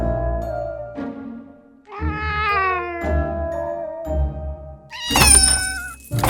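A group of cats yowling and caterwauling, long drawn-out wailing meows overlapping in loud bursts, ending in a shrill screeching cluster close up.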